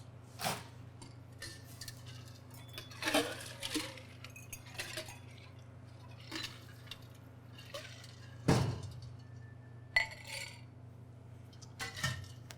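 Scattered clinks and knocks of ice cubes dropping into a glass, irregular and fairly quiet over a low steady hum.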